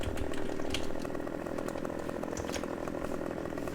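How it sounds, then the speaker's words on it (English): A chainsaw runs in Farming Simulator 2015, cutting with a continuous loud buzzing drone and no talk over it. "Right, let's grab a chainsaw."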